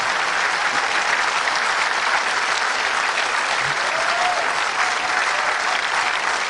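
Sustained, dense applause from a large, lively crowd at a James Cameron Terminator 2 3D event in Berlin, steady and loud throughout without a pause.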